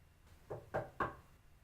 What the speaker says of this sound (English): why would someone knock on the door of a hospital room